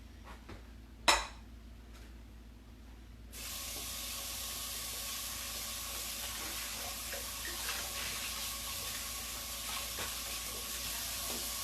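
After a single sharp knock, walnut, sweet potato and sage wonton ravioli drop into a hot pan and a steady, loud sizzle starts and holds without pause.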